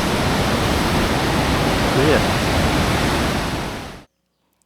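A river rushes below an old electricity station, making a loud, steady roar of churning water that cuts off abruptly near the end, with a voice speaking briefly over it.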